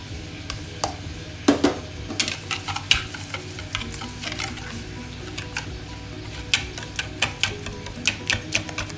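Cookie brownie batter being mixed in a bowl, a spoon or whisk scraping and knocking in irregular quick strokes, close and moderately loud, with no talk.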